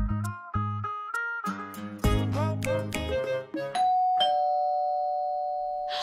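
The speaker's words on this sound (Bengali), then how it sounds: "কলিং বেল কেন? কে আসে তোমাদের বাসায়?" A musical electronic doorbell chimes through a long multi-note melody of bright bell tones, then ends on a sustained ringing note, clear and close in a home, with no talk.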